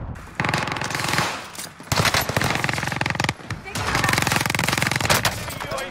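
Sustained automatic gunfire in Call of Duty Warzone on Rebirth Island, loud rapid bursts running almost continuously with brief gaps between strings, with voices talking over it.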